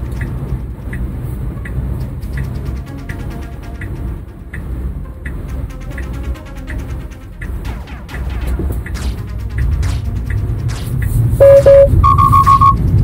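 Road noise from inside a moving Tesla as it drives and turns left, a steady low rumble broken by clicking, with electronic alert tones near the end.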